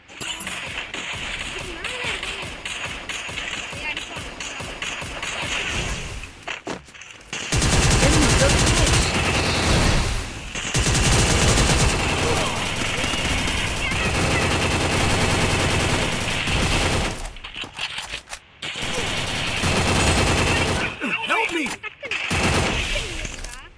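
Gunfire in the mobile game Free Fire, loud sustained bursts of rapid automatic shots in long runs broken by short gaps, with people talking excitedly over it.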